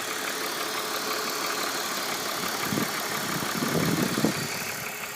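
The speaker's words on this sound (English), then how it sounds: "the water pump in this car is right behind that pulley right here" A BMW engine idles steadily with a continuous whirring drone, suspected of a failing water pump behind a pulley. Faint irregular knocks and rattles come through near the end.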